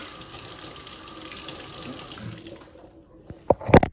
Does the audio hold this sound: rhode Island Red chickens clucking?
no